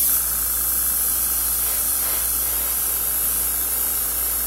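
An airbrush sprays acrylic paint onto the hood of a 1968 El Camino, giving a constant close hiss with a faint low hum beneath and no talking.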